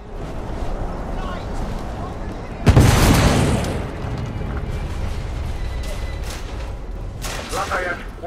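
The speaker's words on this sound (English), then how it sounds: "The damage from the explosion is getting worse" A sudden heavy boom aboard a ship in the video game The Order: 1886, a loud burst of rumbling debris that fades into mechanical creaks, clanks and a steady low hum.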